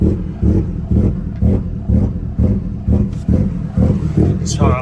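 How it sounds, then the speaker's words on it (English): A tuned 800 hp Subaru engine running on Haltech rotational idle chops hard and unevenly, with loud, rhythmic pulsing bursts of exhaust recurring about every half second, close by, with no talking. "it chops like crazy. So essentially, the function of rotational idle is to cool your car down."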